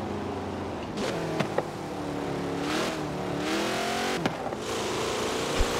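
A Barrett-Jackson Bubble Top car in Forza Horizon 4 with a steady engine drone that rises and falls through revs, marked by a few sharp transient knocks.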